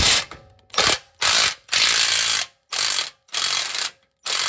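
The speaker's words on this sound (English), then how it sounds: "Now taking out the sway bar, the bolts are really rusted." A ratchet works loose rusted sway bar bolts on a Lexus GX470 during an alternator job. It gives loud, close, rapid clicking bursts in about six strokes, with short silent pauses between them.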